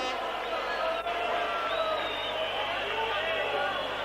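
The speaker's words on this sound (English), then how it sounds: "Rather stunned Belgian crowd" A subdued Belgian football crowd murmurs at a Standard Liège v Dundee United European Cup second-round match, a steady distant hum of many voices with a commentator talking over it.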